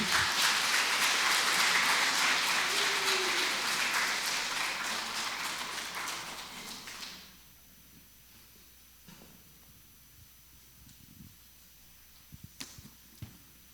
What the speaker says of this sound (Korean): 오늘은 침묵과 멈춤의 비법으로 강의를 해주실 김민수 이냐시오 주임 신부님 큰 박수로 모시겠습니다.